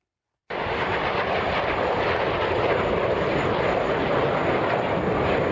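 Aircraft engines roar continuously during flying displays at the Dubai Airshow, a loud, steady broadband jet noise that starts abruptly and holds without a break.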